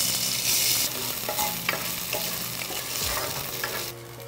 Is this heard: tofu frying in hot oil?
yes